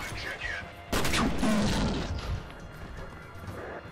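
A video game firefight: a sudden loud grenade blast and burst of gunfire crash in after a quieter start, then fade into scattered rumbling and mechanical noise. A voice talks faintly underneath.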